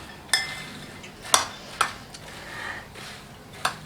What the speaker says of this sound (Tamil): நல்லா அதை மிக்ஸ் பண்ணி விட்டுக்கோங்க